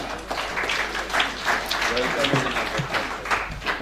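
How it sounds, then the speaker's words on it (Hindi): Steady applause from a crowd at a mushaira poetry gathering welcoming a guest poet fills the space, a continuous wash of clapping with slight swells, voices faintly mixed in. "जोरदार तालियों से इस्तकबाल करें मेहमान शायर जनाब मीर मोहतशिम।"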